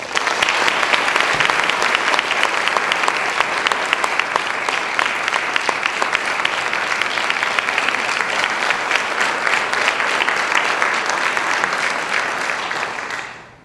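Sustained audience applause welcoming the 2012 Getzen Lecturer at a lecture on government accountability, dense steady clapping that holds strong for about twelve seconds and then tapers off at the end, with no talk over it.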